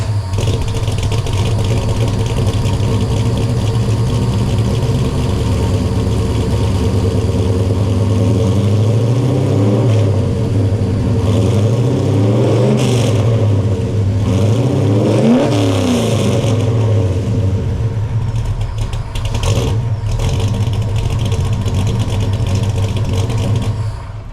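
A 1969 Chevelle Malibu Sport muscle car's V8 engine idling loud and close with a deep steady rumble, then revving up in repeated rising and falling bursts before settling back, with no talk.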